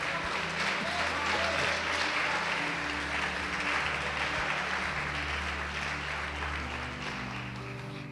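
A church congregation applauding at a Portuguese-language worship service, a sustained wash of many hands clapping with voices murmuring underneath, steady and moderately loud throughout.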